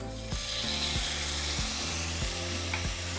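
Green chiles sautéing in melted butter in a frying pan, a steady close sizzle with soft stirring scrapes repeating at a regular pace, and music underneath.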